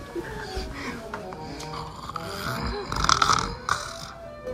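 A person snores in rough, rasping breaths, close and moderately loud, with snorts and grunts and some background talk mixed in.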